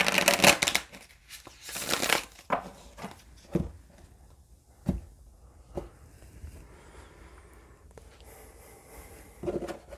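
Quick riffling bursts of tarot cards being shuffled by hand, a few sharp flurries with soft taps and shuffles between, close and fairly quiet.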